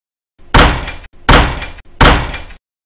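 A door bangs shut three times in quick succession, each a loud, heavy thump with a short rattling tail, evenly spaced about 0.7 seconds apart, with no talking.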